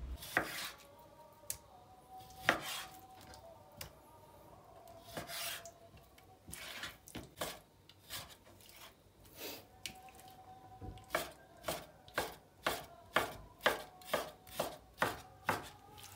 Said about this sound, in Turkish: Tavukları da küp küp aynı şekilde doğrayalım.